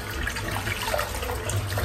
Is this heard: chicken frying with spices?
no